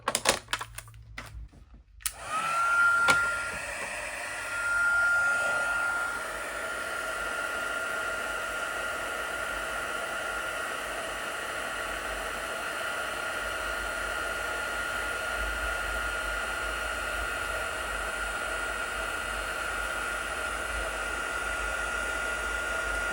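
A heat tool blows hot air steadily to set embossing powder on a stamped card, a constant close whooshing hum that follows a few brief clicks and knocks at the start.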